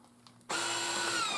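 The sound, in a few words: vacuum sealer vacuuming a bag of pork necks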